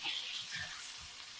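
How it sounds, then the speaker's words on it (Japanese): Turnip steaks sizzle in a frying pan over lowered heat as butter melts, a faint, even crackle with no voices. "火を弱めてからバターを加えて溶かします。"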